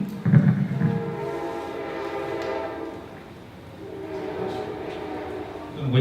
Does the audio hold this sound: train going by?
yes